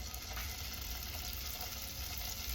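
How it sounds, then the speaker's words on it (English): Two tablespoons of butter sizzling in a hot pan for shrimp fried rice, a steady faint hiss and crackle running evenly throughout. "I'm popping in the 2 tablespoons of butter"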